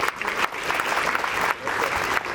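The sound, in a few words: audience clapping, applause for schoolgirls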